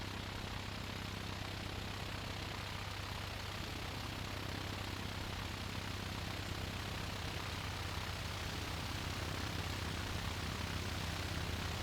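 Cessna 182 piston engine in an airport tower simulator game, a faint, steady, low propeller drone that holds unchanged throughout.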